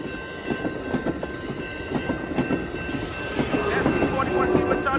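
An Amtrak Capitol Corridor passenger train rolls past near 105th Avenue in Oakland, California, with a continuous rumble, rhythmic wheel clatter and faint squeals that grow slightly louder toward the end.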